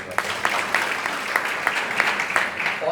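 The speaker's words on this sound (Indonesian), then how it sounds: "Beri tepuk tangan kemuliaan Tuhan" Church congregation at GBI Marina Plaza in Manado clapping together, a moderately loud round of applause with a few sharper claps standing out and a faint voice underneath.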